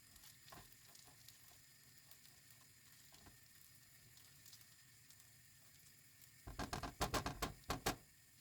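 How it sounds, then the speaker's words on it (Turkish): Washed rice stirred through melted fat in a pot for vegetable pilaf, a soft steady sizzle under faint scraping, then a burst of loud, rapid spoon knocks against the pot near the end. "Pirincimizi ekledikten sonra çok güzel bir şekilde karıştıralım."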